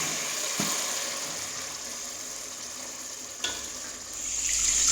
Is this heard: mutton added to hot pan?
yes